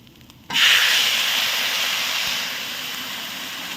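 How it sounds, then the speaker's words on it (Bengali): Water hits a hot pan of frying khichuri, bursting into a sudden loud steaming hiss that stays steady and slowly softens over a few seconds, close by. "এবারে আমরা জল দিয়ে দেবো এতে।"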